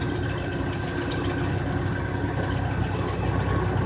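A car engine hums steadily while driving through Las Vegas, a continuous close, even low drone with no talk.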